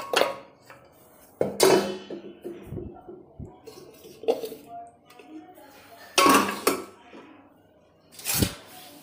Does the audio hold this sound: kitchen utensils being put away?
yes